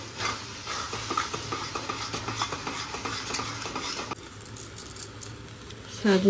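Drumstick leaves and chana dal are stirred in a pan with a spoon, making a continuous close scraping and rustling over a light sizzle; the sound thins briefly partway through, then picks up again at the end.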